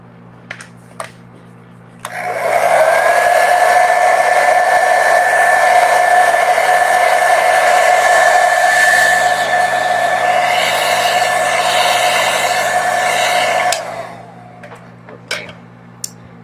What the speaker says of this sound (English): I'm going to use a blow dryer to hasten it a bit.